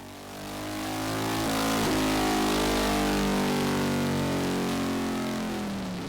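A Harley-Davidson Sportster 883 running on a dyno, its engine note building to a loud sustained roar with steady harmonic drone, then easing slightly toward the end, no voices present.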